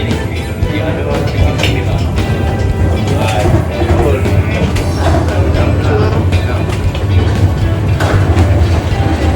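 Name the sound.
mine tour train ride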